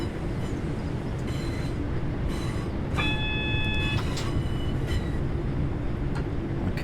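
A simulated train runs on the Glossop Line in Train Sim World 5, with a steady rumbling rail drone, light clicks from the wheels and a short electronic tone partway through, and no voices.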